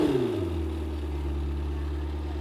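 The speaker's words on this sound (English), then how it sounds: "listen to the startup." A Lamborghini Temerario's hybrid V8 fires up outside the car with a sharp initial bark that quickly settles into a deep, steady idle rumble.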